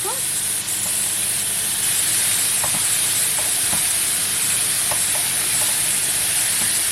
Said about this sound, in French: on va aplatir, on va la faire revenir d'un côté, puis la faire revenir de l'autre.